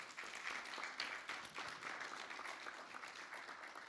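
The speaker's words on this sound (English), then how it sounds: "Let's give them a great big round of applause." Audience applause at an indoor community information session on indoor air quality, a steady wash of many hands clapping throughout, moderately faint and sustained without speech.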